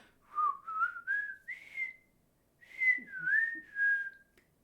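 Someone whistles a bright, bouncy tune in two short phrases separated by a brief pause, clear and close with nothing else around it.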